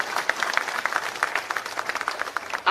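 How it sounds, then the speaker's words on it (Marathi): A crowd at a political rally for a municipal council election in Jat claps in steady, dense applause, moderately loud and continuous over a wide open space. "त्यांच्यासाठी टाळ्या वाजवा."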